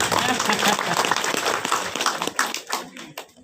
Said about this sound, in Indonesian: Ya tepuk tanganlah buat Simelu